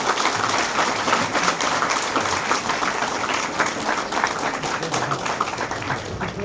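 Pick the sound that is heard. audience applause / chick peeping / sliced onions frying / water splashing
audience applause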